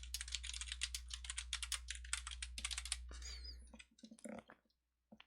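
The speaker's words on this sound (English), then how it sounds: "and then we can just start typing." Fast typing on a computer keyboard in a quiet room, a dense run of crisp key clicks for about four seconds, then a few scattered taps and one final keystroke.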